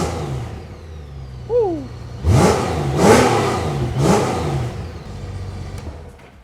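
A Honda Gold Wing's 1800 cc six-cylinder motorcycle engine idles, then is revved hard in three or four loud, close blips that rise and fall in pitch. It settles back to a steady idle afterwards, with no one speaking.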